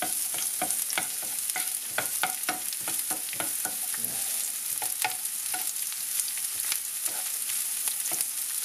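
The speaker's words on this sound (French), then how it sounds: "Je vais faire revenir mes oignons dans un peu d'huile d'olive, donc jusqu'à ce que ça dore un petit peu. Donc je vais remuer." Onions fry in olive oil with a steady bright sizzle, while a utensil scrapes and taps the pan in irregular strokes as they are stirred, close and continuous throughout.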